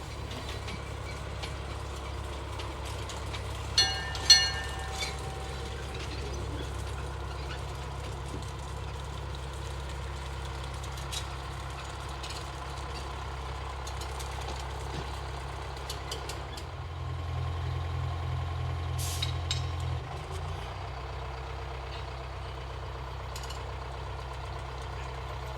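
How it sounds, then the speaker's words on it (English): Plymouth locomotive idling steadily while shuttling railroad cars in a narrow-gauge rail yard, a low continuous engine drone with a brief clank near the start and a slight rise in revs later on. "the Plymouth engine is used to shuttle cars in the yard so that the refrigerator car can be loaded"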